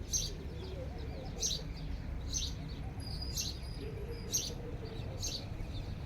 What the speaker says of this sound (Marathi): पक्ष्यांचा मस्त असा किलबिलाट चालू आहे सगळा इकडून तिकडून आवाज येतो